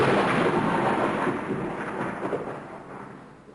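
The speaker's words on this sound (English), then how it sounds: "I've never seen a storm like this." Thunderstorm with rain as a radio drama effect, a loud rolling rumble of thunder over dense rain hiss that slowly fades.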